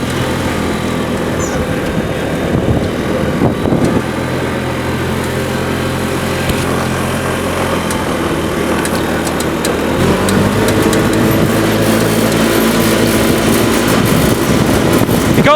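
A 1993 Honda 4514 hydrostatic lawn tractor runs at top speed, its engine giving a loud, steady, close-up drone with a rattling low hum throughout the run.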